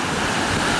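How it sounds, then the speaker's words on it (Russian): Rough sea waves break on Haad Rin beach, Koh Phangan, in a dense, continuous roar of surf mixed with wind noise, loud and close throughout the short stretch. "Было другое море, было тихое, было нежное, спокойное, а сейчас разбушевавшееся."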